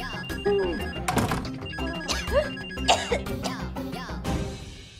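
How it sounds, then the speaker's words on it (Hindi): A telephone rings repeatedly over busy background music with sweeping tones. "फोन नहीं उठा रही है।"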